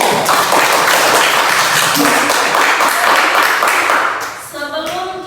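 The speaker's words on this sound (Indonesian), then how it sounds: "kita berikan tepuk tangan untuk semua kalian" A classroom of students claps for their classmates after project presentations in a physics lesson, loud, dense and sustained, fading near the end as a voice begins.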